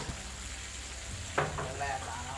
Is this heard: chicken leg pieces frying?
yes